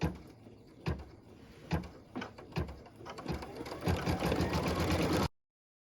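Sewing machine stitches the inner seam line of quilted puppy ears, starting with a few sharp separate thumps, then speeding up into a dense, even run of rapid needle clatter close by that stops abruptly.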